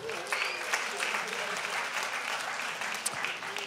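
Audience applause at a live comedy show in Montreal's Club Soda; a brief burst of crowd clapping at moderate volume, with some voices mixed in.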